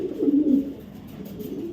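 Soft low cooing of young Afsan grizzle racer pigeons: a short throaty burst up close followed by quieter murmuring.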